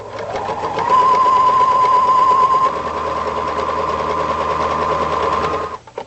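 A sewing machine stitches upholstery fabric for a designer ottoman, running in one steady, loud, close mechanical hum for several seconds before stopping.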